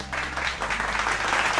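Distant crowd applause swells steadily as a broad, even wash of many hands clapping at once, fairly faint and continuous throughout.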